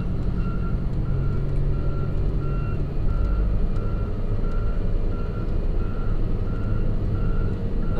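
A plow truck reversing emits a steady, evenly spaced backup beeper, loud and repeating roughly every half second over a constant heavy diesel engine rumble, alongside a John Deere loader working snow behind buildings.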